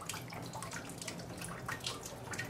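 Water trickles onto a lapidary cabochon grinding machine as a teardrop stone is about to be shaped, producing a faint, steady spattering hiss with small dripping splashes and no talk.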